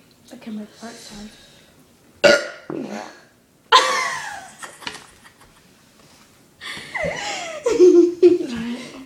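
Several loud, drawn-out human burps come close to the microphone in a burping contest, with giggling and chatter between them.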